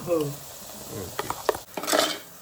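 Ground coconut masala paste sizzling and frying in a pan for Malvani clam curry, with a few scraping stir strokes and clinks of a utensil against the pan.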